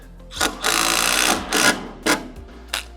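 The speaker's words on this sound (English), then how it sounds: "I'm actually going to put my screws in" A power driver sets screws into a pool table during leveling, with one long whirring run followed by several short bursts, close and fairly loud.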